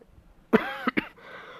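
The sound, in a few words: cough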